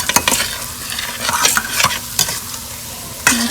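A spoon stirring Ghanaian jollof base in a hot pot with ground cumin and smoked fish, several sharp scraping strokes over a constant sizzle of frying, close and clear.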